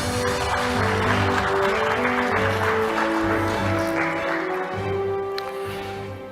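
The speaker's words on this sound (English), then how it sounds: "Let us give him one round of applause." Conference audience applauding a speaker giving welcoming remarks at an international law event, moderate steady clapping under stately background music with rhythmic low tones, tapering slightly toward the end.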